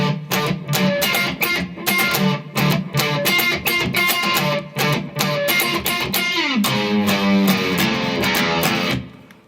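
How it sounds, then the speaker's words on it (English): Electric guitar playing the chorus of a song, loud, driving repeated chords in a choppy rhythm with a sustained bend partway through, ending abruptly. "And then we get a chorus which sounds like this."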